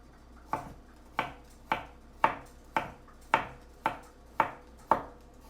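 Steady knife chops through food on a cutting board, cutting thin slices, with nine evenly spaced crisp strokes, close and clear against a quiet background.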